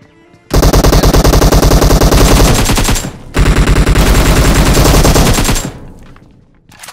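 Rapid automatic gunfire in PUBG Mobile, two long loud bursts of fast-repeating shots separated by a brief pause, close and dense with no talk over it.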